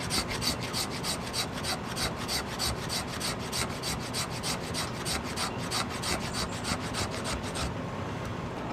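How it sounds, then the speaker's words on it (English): A knife spine scraping downward along wood to raise shavings, a steady rasping run of quick repeated strokes, close and fairly loud, continuing for several seconds before stopping abruptly. "take the knife and the spine and just scrape downward like this"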